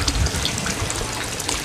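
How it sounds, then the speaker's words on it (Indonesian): Water drains out of a tarp fish pond as a steady, dense gushing and splashing, continuous and fairly close with no talk. "Ini airnya kita buang dulu ya teman-teman ya."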